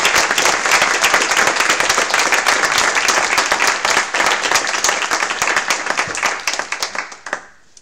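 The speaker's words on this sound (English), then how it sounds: "I would like to encourage you to give them a warm hand of applause." A large audience applauds at a sustainability forum, with loud, dense clapping that holds steady and then thins out into scattered individual claps before fading away at the end.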